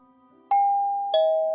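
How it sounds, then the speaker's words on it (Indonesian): A two-tone ding-dong doorbell rings inside a house in the video game Heartopia, with two clear chimes and the second tone held and ringing on at the end, heard alone with no talking. "bel rumah pun berbunyi."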